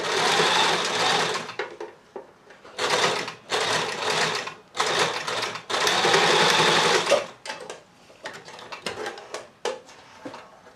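Sewing machine sink stitching along a trouser seam to secure elastic, heard as several close, loud bursts of rapid whirring stitching separated by short pauses and small handling clicks.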